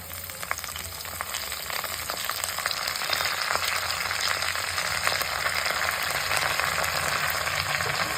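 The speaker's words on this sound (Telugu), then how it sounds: "తాలింపు వేగిందండి ఇప్పుడు చుక్క కూర కడిగి పెట్టుకున్న చుక్క కూర వేసుకుంటున్నానండి" Washed chukka kura (sorrel greens) sizzle and fry steadily in a hot tempering with dry chillies and curry leaves, a continuous crackling hiss that swells slightly as the leaves settle into the oil.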